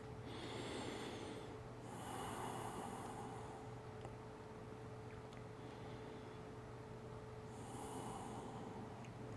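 Slow, deep breaths during a yoga session, a long hissing inhale and exhale at the start and again near the end, soft and close over a faint steady hum.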